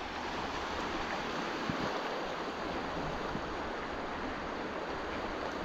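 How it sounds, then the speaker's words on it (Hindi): A fast, strong flow of mountain river water runs near a small wooden footbridge, a steady, loud broadband rush that holds constant throughout with no breaks. "पानी का बहाव बहुत तेज है,"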